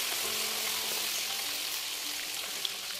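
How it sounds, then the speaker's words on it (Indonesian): Chicken fries in hot oil with a steady, crackling sizzle that fills the whole stretch, close and even, with no talking. "Oke, next kita akan goreng ayam."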